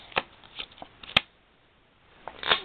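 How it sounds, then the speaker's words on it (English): Playing cards laid down one at a time onto a pile on a table, a handful of soft, crisp slaps and light taps spread across a couple of seconds, close and quiet with no talking. "what you're going to do is you're going to put 3 random cards on top"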